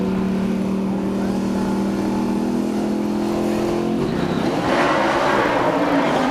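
A stock race car at the 2003 Winston accelerates out of its pit stop, the engine note climbing steadily and loudly before breaking into a rougher, fuller roar as it gathers speed.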